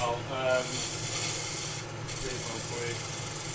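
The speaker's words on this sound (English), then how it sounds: "if I come in with my spindle roughing gouge" A spindle roughing gouge rubs and rasps against spinning wood on a lathe, a steady scraping hiss with brief pauses as the tool is repositioned, close and fairly quiet.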